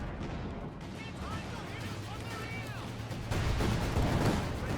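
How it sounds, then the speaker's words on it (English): A Land Mattress rocket artillery barrage in Company of Heroes 2 rumbles as a dense, continuous roll of explosions mixed with battlefield noise, growing louder toward the end while a voice talks over it. "Land mattress throwing a barrage into the center, trying to catch what it can."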